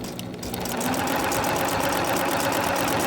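A sewing machine stitches zigzag on slinky, stretchy t-shirt fabric with a steady, fast mechanical chatter and rhythmic needle ticking, running continuously and close up with no voices.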